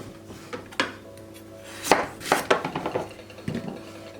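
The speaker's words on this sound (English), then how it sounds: "so what I do is just chop the ends off" A knife chops the ends off a butternut squash on a board, a few firm separate thuds followed by a quicker cluster of cuts, close and clear with no talking.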